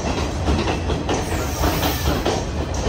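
A Sri Lankan train on the Ella to Nuwara Eliya line comes in fast and close, its loud steady rumble carrying rhythmic wheel clatter over the rails with no voices.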